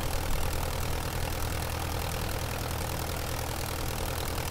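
Curtiss JN-4 Jenny biplane engine in Microsoft Flight Simulator, a steady loud droning hum with a rough pulsing texture, holding constant with no voices.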